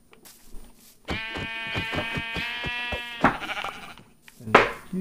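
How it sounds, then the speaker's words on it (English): A black sheep bleats in Minecraft, a single loud, wavering bleat with a rapid pulsing rhythm lasting about two seconds, followed by a few soft thuds and clicks. "black sheep, that's very rare."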